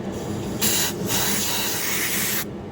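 A can of penetrating lubricant sprays in two hissing bursts, a short one and then a longer steady one, close and loud, onto a 1996 Polaris Magnum 425 ATV.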